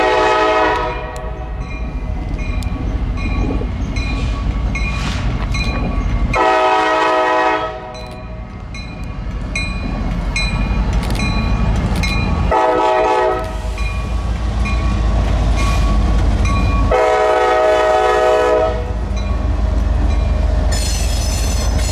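A Norfolk Southern freight train led by an SD40E locomotive, rebuilt from an EMD SD50, rolls north into a rail yard, its loud horn sounding in several long blasts over the steady rumble of the passing train.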